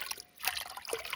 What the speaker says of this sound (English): I have to just keep pouring water into this puddle